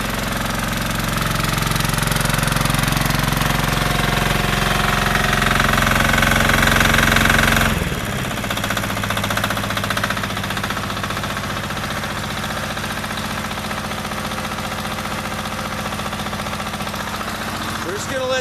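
An engine idles steadily as it warms up in freezing winter cold, a dense continuous rattle that suddenly drops to a quieter, rougher idle partway through and keeps running.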